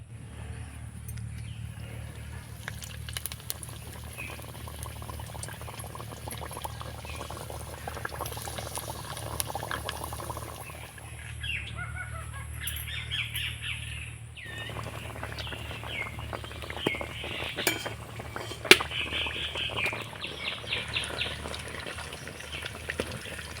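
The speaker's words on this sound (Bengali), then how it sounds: "নাস্তা টিফিনগুলোকে আমি একইভাবে ভেজে নেবো" Potato and flour snacks fry in hot oil with a steady bubbling sizzle, near and moderately loud throughout, broken now and then by brief clinks and faint background noise.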